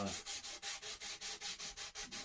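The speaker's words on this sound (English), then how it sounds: "we're going to do some sanding" Steady back-and-forth sanding strokes, about ten rhythmic rasping passes at an even pace, close up with no talking.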